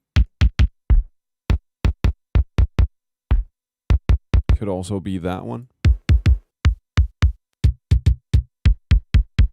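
Punchy drum machine kick samples from a Linn LM-1 or LinnDrum fire one after another in an uneven pattern, several quick hits at a time with short gaps. A brief sustained tonal tone sits in the middle, and a voice speaks briefly.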